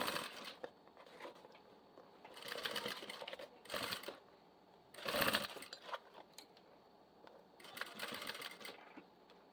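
A sewing machine stitches a toiletry bag in short bursts, running briefly, pausing, then running again, several separate whirring runs at moderate volume with quiet gaps between them.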